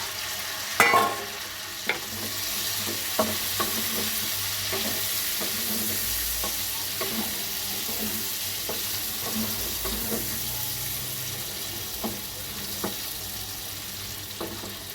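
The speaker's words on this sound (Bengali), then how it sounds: "এবার আমি চিকেনগুলো দিয়ে দেবো।" Chicken pieces frying in a pan of butter and garlic, a continuous close sizzle broken by regular scraping stir strokes throughout, with no voices.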